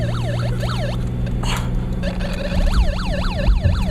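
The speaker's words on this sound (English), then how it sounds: "Your siren's kind of broke, sir." An older police car siren wails in a repeating rising-and-falling pattern, loud and close, with a brief burst of noise mid-clip and a low engine rumble underneath.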